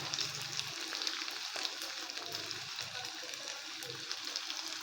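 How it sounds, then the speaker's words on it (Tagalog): Tofu (tokwa) frying in a pan, a steady close sizzle and crackle with scattered spitting pops and a few low knocks, no talking. "Fried muna tayo ng tokwa"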